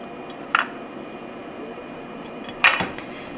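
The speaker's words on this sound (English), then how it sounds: "We're just going to throw our sausage right on here." Italian sausage set into a preheated air fryer basket gives two sharp, close metallic clunks about two seconds apart over a quiet background hum.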